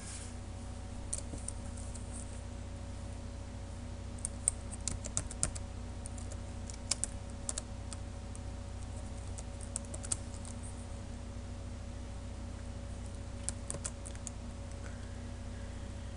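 Someone types C++ code on a computer keyboard, giving a quiet, steady patter of key clicks with occasional sharper taps, heard close over a low background hum and without speech.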